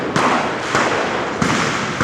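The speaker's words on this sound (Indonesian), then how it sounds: "Sepertinya semakin banyak suara petasan teman-teman" Firecrackers set off toward the Mako Brimob gate on Jalan Kwitang, Jakarta at night burst in three loud cracks about half a second apart, each followed by a rough crackling decay.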